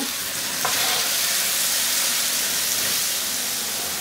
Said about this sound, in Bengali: 4টা টমেটো আমি এইভাবে কেটে রাখছি ডাইস করে, ওগুলা দিয়ে একটু ভেজে নিতে হবে